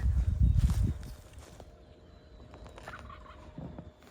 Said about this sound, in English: I got a gobbler down in here.